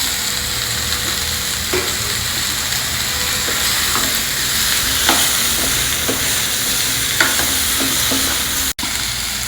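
Pumpkin and other vegetables frying in a pan for sambar, a continuous loud sizzle with occasional stirring clicks and scrapes, no talk.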